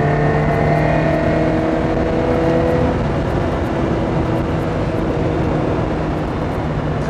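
Lotus Elise S1 sports car cruising along with a steady, continuous engine drone and road noise throughout, no talk over it.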